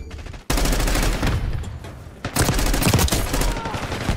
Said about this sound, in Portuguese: quantos tiros eu tive que dar nesse maluco pra ele morrer